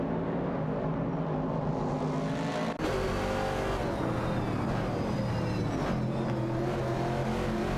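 Virtual race cars, including a Dodge Challenger and a Ford Mustang Boss, battling in a video game race, a loud continuous roar of engines with rising and falling revs, layered and steady throughout with no talking.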